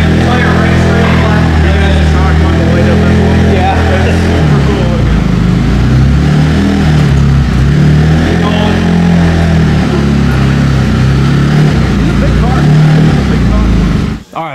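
A Speed UTV side-by-side runs strapped on a roller dyno, its engine droning loud and steady for the whole stretch with shifting pitch, cutting off abruptly at the end; people talk underneath.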